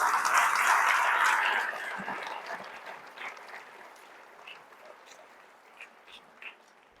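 Loud applause from a church congregation bursts out, then fades to sparse, scattered claps trailing off.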